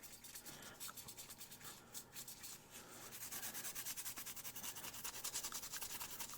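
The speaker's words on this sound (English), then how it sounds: "Just giving this a little bit of a scuff to kind of help the adhesion." Sandpaper scuffing the body of a truck model before filler, a steady dry rubbing that starts in short strokes and settles into continuous fast back-and-forth sanding, close and fairly quiet, with no talking.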